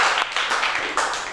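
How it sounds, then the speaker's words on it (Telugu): Children clapping together in a classroom language game, a short burst of brisk, slightly uneven claps, close and fairly loud. "మరి క్లాప్స్ పెడతామా?"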